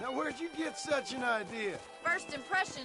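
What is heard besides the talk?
No everyday noises stand out.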